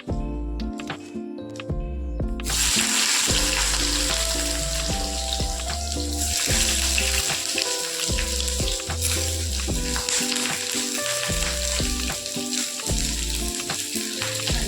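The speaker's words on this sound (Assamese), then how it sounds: "কেৰাহীখন গৰম হৈছে, এতিয়া কাটি থোৱা পিঁয়াজখিনি তাতে দি দিম।" Chopped onions hit hot oil in a wok for a pork curry, bursting into a loud, steady sizzle after a quieter start, with scrapes and stirring clatter breaking through the frying.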